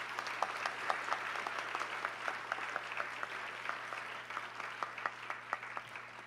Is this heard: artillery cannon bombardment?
no